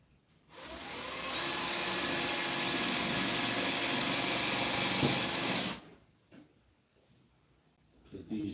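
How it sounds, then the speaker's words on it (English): A Ridgid power drill whirs steadily for about five seconds as it drills out bolts in a shed, then stops, followed by quiet with a few faint clunks. "I'm going to try to drill out some of these with the Rigid."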